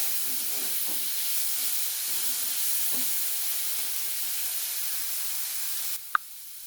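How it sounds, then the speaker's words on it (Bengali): Potatoes with turmeric fry quietly in a pan, giving a soft, continuous hiss with faint crackles, followed by a sudden drop and a single short clink near the end; no voices. "দিয়ে খুব সুন্দর করে আমি আলুটা ভেজে নেব।"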